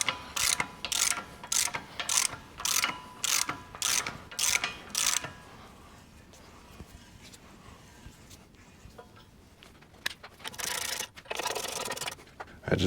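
Hand ratchet turning bolts into the frame of an International Harvester 1086 tractor: a steady series of rapid clicking bursts in an even rhythm, close and fairly loud, then quieter scraping and a last run of ratcheting.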